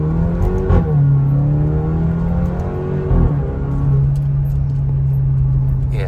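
Alfa Romeo Stelvio 2.0 Monza exhaust revving up through the gears in manual mode, a loud, close, steady engine drone with rising pitch sweeps and brief shift breaks between them.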